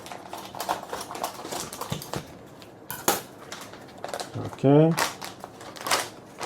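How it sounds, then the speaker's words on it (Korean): Scissors cut open a vacuum-sealed package of kelp-aged Korean black beef, with crisp clicking snips and a brief crinkling rip of plastic while someone talks over it. "제가 바로 가위로 한번 잘라서 진행해 보겠습니다."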